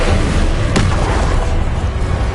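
A fire spell cast in Hogwarts Legacy bursts as one sharp, booming crack over a constant loud roar of game effects and noise.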